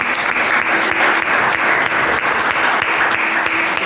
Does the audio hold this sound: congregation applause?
yes